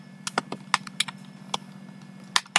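Computer keyboard typing in a quiet room while text is entered during a Bootstrap 4 web page build, a quick irregular run of close, crisp key clicks with brief pauses over a low steady hum.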